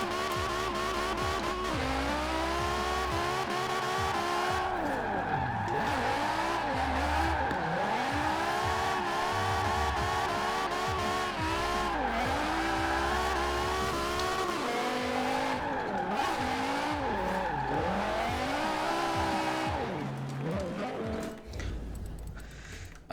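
A BMW Z4 drift build in Forza Horizon 4 runs on a mountain road, its engine revving and falling in continuous loud sweeps with tires squealing through slides.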